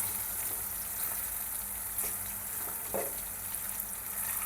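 Chopped ridge gourd sizzles gently in a pan while it cooks for chutney. The crackle is soft and steady, with a few faint clinks and scrapes of stirring, and no voices.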